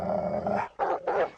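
A small scrappy hound growls and snarls in three quick close bursts, loud and rough, with brief gaps between them and no talking.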